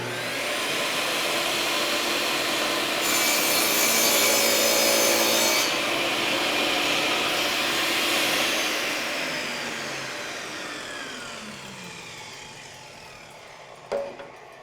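A table saw with a miter gauge cuts through a wooden board, a steady loud whining rip that swells and fades over several seconds before a brief knock near the end, with no voices.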